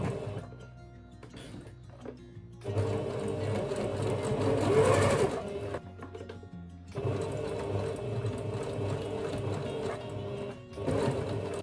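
A sewing machine stitches along elastic on a fabric book cover, running in steady bursts with short pauses between passes, its motor hum and needle chatter close and fairly loud.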